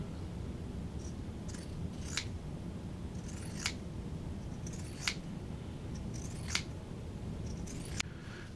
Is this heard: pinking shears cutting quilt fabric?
yes